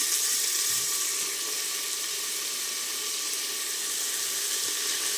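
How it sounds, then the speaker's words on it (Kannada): Tomatoes hit a hot frying pan of onions, giving a steady, close hiss of sizzling oil that holds evenly throughout with no voices. "ಇವಾಗ ಟೊಮೊಟೊ ಹಾಕ್ತಾಯಿದ್ದೀನಿ"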